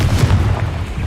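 A Confringo fire spell blast in the video game Hogwarts Legacy, a short, loud, dense booming burst with strong low rumble from start to finish.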